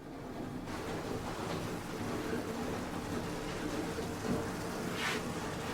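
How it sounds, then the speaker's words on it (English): Steady rain hisses outdoors, a dense, even wash of noise with no voices, constant from start to finish. "it's raining outside"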